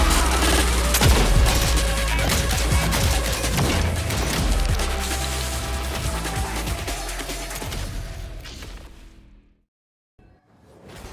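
Pistol and shotgun blasts ring out in dense, rapid volleys, layered with whooshing swings and heavy impact booms from the beat-'em-up Redline, loud and continuous before cutting to near-silence at the end.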